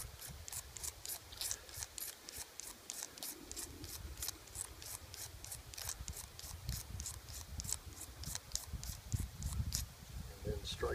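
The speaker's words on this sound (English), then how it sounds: "Just scrape the magnesium onto the cotton ball." Rhythmic rasping strokes of a magnesium fire starter being scraped onto a cotton ball, a steady series of close, bright scratches repeating about twice a second throughout.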